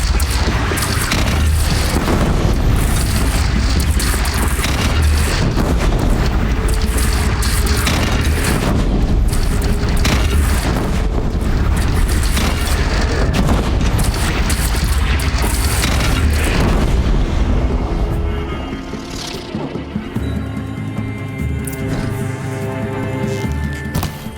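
Bandit cannon fire in the video game Horizon Zero Dawn, a continuous barrage of heavy booms and blasts at high volume that eases near the end into quieter ringing tones.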